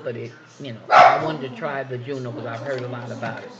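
A pet dog barks once sharply near the start at a home in the evening, reacting to passersby, then the rest is steady talking in a room.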